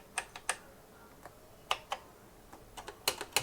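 Keys tapped on a BBC Micro Model B keyboard, including its cursor keys, giving scattered clicky presses in short irregular bursts, fairly close with no talking.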